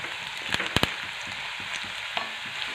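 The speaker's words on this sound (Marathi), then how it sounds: "आता मी कढीपत्ता कढीपत्ता छान तेलामध्ये परतून घ्यायचा" Curry leaves and onion frying in oil for shev bhaji while being stirred, with a soft steady sizzle and a few sharp clicks of the spoon against the pan, fairly quiet and close, no voices.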